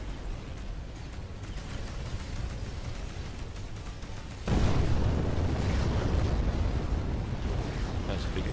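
A nuclear missile explosion in the space game Between the Stars sets off a sudden deep, loud rumbling roar midway, over a steady noisy background rumble.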